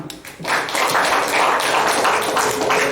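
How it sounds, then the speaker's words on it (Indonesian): Audience clapping at a gathering of former political prisoners, a burst of many hands applauding that starts after a brief pause and continues steadily and loudly. "Tepuk tangan."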